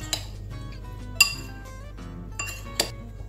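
A spoon clinks against a bowl while blueberry filling is mixed with cornstarch and lemon juice, giving a few sharp, close taps spread over a quiet background.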